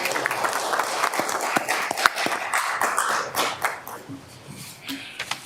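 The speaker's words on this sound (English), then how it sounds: "Let's give him another round of applause" Scattered applause from attendees at a city council meeting, a steady patter of hand claps with sharper individual claps, moderately near and fading slightly toward the end.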